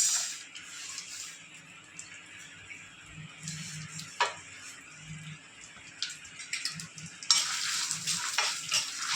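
Black urad dal being dry-roasted in a pan for tomato chutney, a soft crackle and sizzle with a spoon scraping and stirring, fairly quiet and alone.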